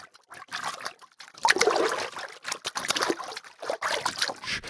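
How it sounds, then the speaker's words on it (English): Foley water is splashed and sloshed by hand in a near, continuous run of watery surges. The rhythm is irregular, with the strongest churning near the middle. "I can perform the water splashes in real time with the video"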